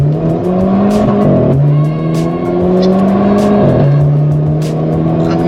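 Renault Clio 4 RS Cup Phase II engine revving hard under acceleration, loud and close from inside the car, with rising pitch through the gears and two clear upshifts.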